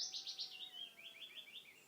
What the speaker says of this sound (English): Must be a small bird making that noise. Maybe it's not a thrush.